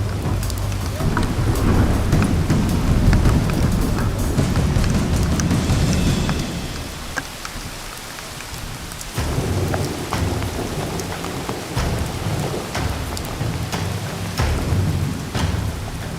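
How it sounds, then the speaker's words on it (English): Steady heavy rain pours down on a log lodge construction site in Montana while deep thunder rumbles and rolls through the first half, easing briefly before the downpour continues. "Yeah, you hear it? There's thunder everywhere."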